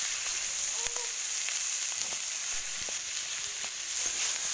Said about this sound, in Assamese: শাকখিনি অলপ জহালৈকে ভাজি ল'ম।